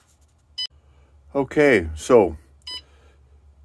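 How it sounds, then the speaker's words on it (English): A Renogy One Core battery monitor alarm gives a short high electronic beep, then repeats it once more about two seconds later, clear and close, with someone speaking briefly between the beeps. "probably heard that beep. That's the alarm going off."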